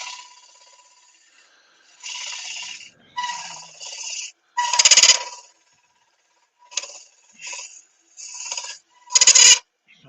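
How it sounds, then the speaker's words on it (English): Pear wood, a close-grained fruit wood, squealing and rasping against a gouge on a lathe in repeated loud bursts of about a second each, separated by short quiet gaps, with no talk. "I'm going to try a bowl gouge that's got a bit more strength to it. See if that will stop the squealing."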